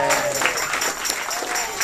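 An audience at a high school songwriting show applauds and cheers in a dense, steady wash of clapping and crowd noise filling the space without a break.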